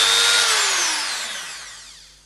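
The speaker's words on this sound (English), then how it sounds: "You'll also need a Dremel or similar multi-tool." A Dremel multi-tool fitted with an etching attachment, used on plastic model-kit sprues, gives a loud, high-pitched whine that winds down steadily over about two seconds, heard alone.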